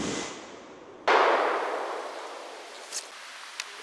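A single loud gunshot from a 460 Smith & Wesson Magnum handgun firing a 395-grain hard cast bullet, a sharp blast that rings out and decays slowly, followed by two faint metallic ticks.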